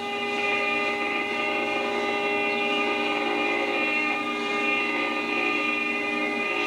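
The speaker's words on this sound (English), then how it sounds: "If they're on the same frequency, they will talk to each other, and your audio will sound like this." A Garrett Grand Master II metal detector picks up interference from another detector on the same frequency, giving a continuous warbling multi-tone whine, steady and fairly loud, without any pause or speech.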